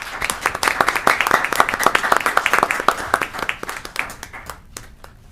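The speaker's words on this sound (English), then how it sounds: "let's give him a big round of applause" A civic meeting audience in Linden claps for a team coach coming forward to receive an award, loud dense hand clapping with distinct individual claps that thins out and trails off near the end.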